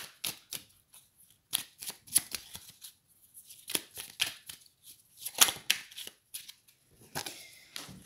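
Oracle cards being shuffled by hand, a quick series of soft papery riffles and slaps in irregular bursts, close and fairly quiet, with no speech.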